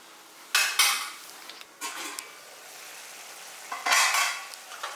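Wet squishing and spoon scraping against a pot as tomatoes are mashed for sambar, in a few separate bursts, with quiet pauses between strokes and no talking.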